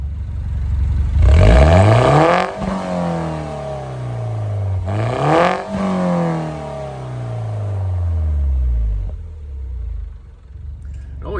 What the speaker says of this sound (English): So I decided I'll just let you guys hear the exhaust tonight.